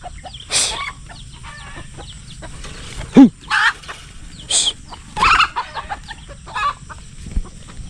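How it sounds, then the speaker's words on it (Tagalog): Chickens cluck and squawk in short, irregular bursts close by in a farmyard, with one louder sharp call partway through and quieter clucks between. "May mga manok dito."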